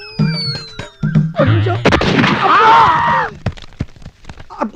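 A military-themed film comedy scene has one loud, sharp gunshot crack near the middle, bracketed by speech before and after.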